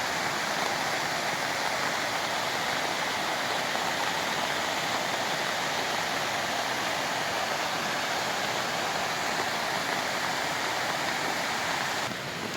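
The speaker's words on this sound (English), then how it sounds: "And here's a look at the creek, a little ways up from the waterfall" Steady rushing water of a creek and waterfall swollen after six inches of rain, a constant broadband roar with no pauses throughout.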